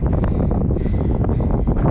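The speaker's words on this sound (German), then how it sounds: "Mega windig heute" Strong wind buffeting a microphone while bikepacking in Montenegro, a loud, continuous low rumble with gusty fluctuations and no talk.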